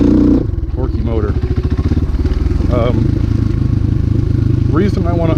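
A 2021 Orion RXB250 pit bike engine runs with a close, throbbing idle and brief revs, while someone talks over it.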